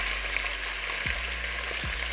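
Carne asada meat fries in hot oil with a steady, close, loud sizzle that continues without pause and has no speech over it.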